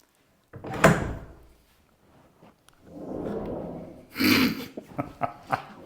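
Sliding farmhouse-style barn door rolling along its overhead rollers in a coastal vintage home, with a rumbling slide in the middle, then a louder knock and a few sharp clicks as it stops.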